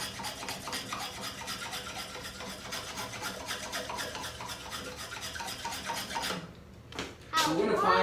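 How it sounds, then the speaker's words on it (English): Steady rhythmic rasping strokes of a spokeshave shave a wooden marshmallow stick up close. After a brief pause, brighter scraping and clatter follow at the end. "now I'm just gonna take more spokeshave to it"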